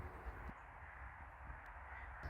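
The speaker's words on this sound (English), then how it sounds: "listen to the birds" Crows caw several times in a quiet market garden with berry bushes and wild plum trees, the harsh calls spaced apart and moderately distant over a soft outdoor hush.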